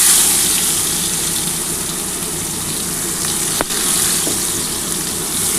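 Onions fry in a hot pan with a steady, bright sizzle, close and continuous, broken by one brief clink partway through.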